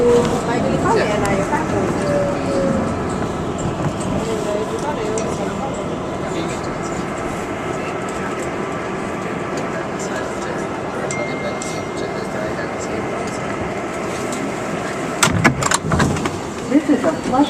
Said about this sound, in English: This is a Flushing Main Street bound 7 express train.